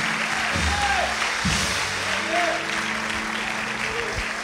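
A church congregation applauds in a steady, moderate wash of clapping, with a voice speaking over it and a few tonal sounds drifting through.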